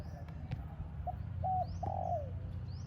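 Soft bird calls, a few short coos and a longer sliding note, faint and somewhat distant over a low background rumble.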